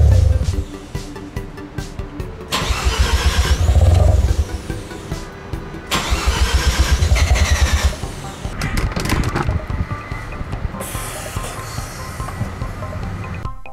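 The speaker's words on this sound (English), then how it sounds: "Reconnect the negative pole to the battery and crank the engine until it stops." A Mazda RX7 FD rotary engine cranking in repeated bursts of starter whine, each churning for a couple of seconds before cutting out, close and fairly loud, with quieter gaps between attempts.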